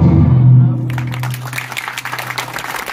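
Applause from members of the Indian community at a Republic Day event held at an embassy in Moscow rises after a low sustained tone fades out, continuing as a steady crowd patter for a few seconds.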